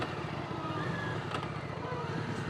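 Yamaha Virago 535 motorcycle riding along, a steady low engine drone with constant road and wind rush close by, no talking.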